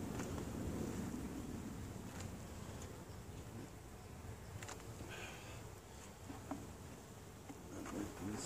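Carniolan honey bees swarm around an open hive in a bee yard during an inspection, making a steady, faint, close buzzing drone with light wind noise.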